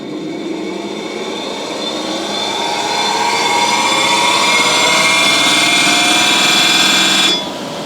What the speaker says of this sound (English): So let's see when I spin it up if it reads anything.